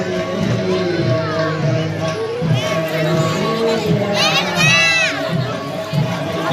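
A dense crowd at a temple consecration event, loud and close, with children shouting, people chattering and a few excited cries rising above the babble.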